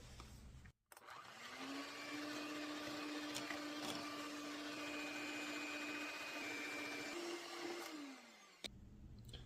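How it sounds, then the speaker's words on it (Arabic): Sugar mixture being beaten until white, most likely with an electric mixer: a steady motor whine runs for several seconds, rising in pitch briefly before winding down, heard alone. "نطربو هاد الخليط حتى كيتكون لينا خليط ابيض"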